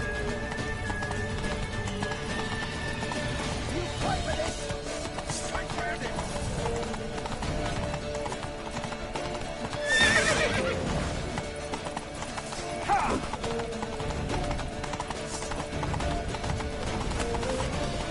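Fast, steady hoofbeats of a galloping horse in The Witcher video game, with a brief whinny, set against dense, continuous game sound.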